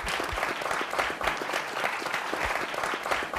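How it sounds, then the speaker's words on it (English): A crowd gives a round of applause at a music performance, dense continuous clapping at full strength throughout, with no voices over it. "I think now's the time for a round of applause."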